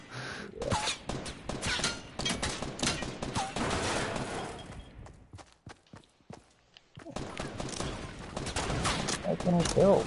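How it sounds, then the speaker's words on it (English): Rapid gunfire in the video game Fortnite, sniper and other weapons firing in dense bursts that pause briefly midway, then resume loudly, with someone talking over the shots. "He's got so many bullets, he just keeps shooting."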